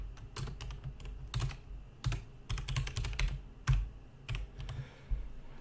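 Bursts of quick keystrokes clatter on a computer keyboard, close and clear, in short irregular runs separated by brief pauses, with no talking.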